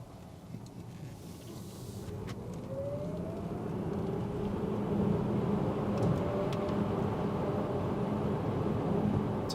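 A 2018 Tesla Model S 100D electric car accelerating hard from a standstill, heard from inside the cabin as a rising low road and wind rumble with a faint climbing motor whine, growing steadily louder.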